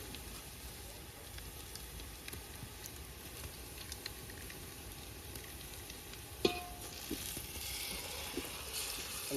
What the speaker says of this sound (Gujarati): તો મિત્રો આપણે ડુંગળી કમ્પ્લીટ શેકાઈ દઈએ તો આપણે અંદર આદુ પેસ્ટ નાખી દઈશું હવે.